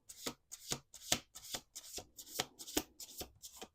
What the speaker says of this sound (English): We're doing 2 more shuffles here.